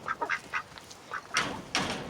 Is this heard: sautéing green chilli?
no